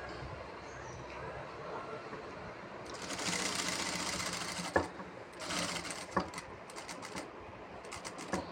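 A sewing machine stitches a churidar in quick running bursts, starting and stopping several times with short clicks between runs, close and clear over a quiet room.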